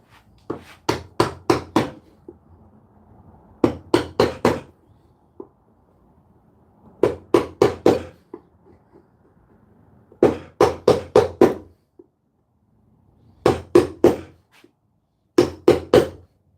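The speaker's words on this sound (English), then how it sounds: "So we're going to go once more with a reasonable hammer blow." Hammer blows on wood during hand woodworking, struck in quick bursts of three to five sharp, close knocks separated by short pauses, with a faint low hum underneath.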